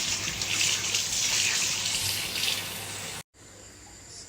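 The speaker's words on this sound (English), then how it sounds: "Just wash in all the potatoes." A tap runs steadily into a sink while potatoes are washed, with a bright splashing rush for about three seconds, a sudden cutoff, then a quieter trickle.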